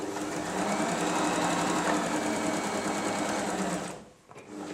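A Janome 2522 sewing machine stitches in reverse with a fast, steady mechanical whir and needle chatter, running continuously before stopping abruptly near the end.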